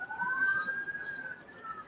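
A police car siren wails outdoors, a steady rising and falling tone carrying through the open air at moderate distance, continuous for a couple of seconds with no voices over it.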